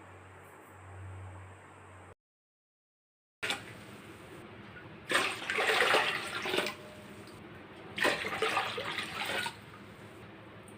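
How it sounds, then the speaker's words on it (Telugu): Water pouring into a cooking pot, measured out by the bowlful for boiling to make rice flour vadiyalu, heard as two loud, close bursts of splashing flow with a quiet pause between them. "ఈ గిన్నెతో 7 గిన్నెలు వాటర్ వేసుకోవాలి"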